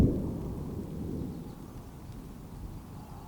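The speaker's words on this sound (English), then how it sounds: "Watching thunderstorms roll across the San Juan Mountains" Thunder rumbles over the San Juan Mountains during a high-country thunderstorm, a deep rolling boom at the start that fades into a long, steady low growl with rain hiss underneath.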